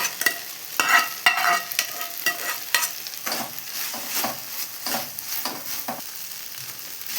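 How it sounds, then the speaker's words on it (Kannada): Bitter gourd stirred into frying tomato in a pan: loud, close sizzling with repeated scraping strokes of a spoon in an uneven rhythm, no voices. "ಟೊಮೊಟೊನು ಚೆನ್ನಾಗಿ ಫ್ರೈ ಆಗಿದೆ. ಇವಾಗ ಹಾಗಲಕಾಯಿ ಆವಾಗಲೇ ಫ್ರೈ ಮಾಡಿ ಇಟ್ಕೊಂಡಿದ್ಮೇಲೆ ಹಾಗಲಕಾಯಿ ಹಾಕ್ಕೊಳ್ತಾ ಇದ್ದೀನಿ"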